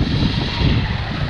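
A Traxxas Maxx RC truck hydroplanes across open water, giving a loud, steady, buzzing motor roar with churning spray noise, close by and continuous, with no talking.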